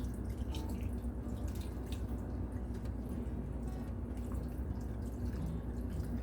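Vegetable stock is poured into a pot roast with potatoes and carrots, giving a steady, close, continuous trickle and splash of liquid that keeps going without a break and with no talking.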